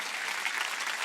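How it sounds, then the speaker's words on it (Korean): A church congregation at a Sunday charismatic worship service bursts into dense, continuous applause, a steady wash of many hands clapping close by with no pauses and no talk. "박수 치려면 치고"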